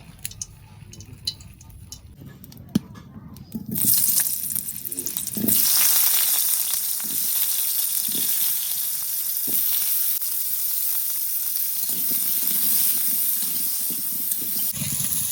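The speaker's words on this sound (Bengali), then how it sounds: "তো সবার প্রথমে আমি এখানে এখন আলুটা ভেজে নেব।" Oil sizzles steadily as potatoes fry, a bright continuous hiss that starts after a few seconds, with occasional soft knocks and scrapes underneath.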